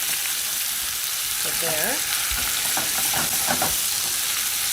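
A pan of prawn and sundried tomato sauce for pasta bubbles and sizzles steadily up close, with a few spoon stirs and scrapes in the middle and a brief spoken word.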